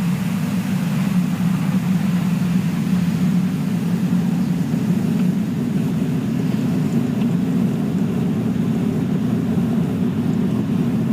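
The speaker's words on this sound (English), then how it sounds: "Falcon 9 has successfully lifted off from Launch Complex 39A at Kennedy Space Center, carrying the Koreasat 6A satellite." A SpaceX Falcon 9 rocket lifting off from Launch Complex 39A at Kennedy Space Center carrying the Koreasat 6A satellite, heard as a steady, dense low roar that holds without break and without speech.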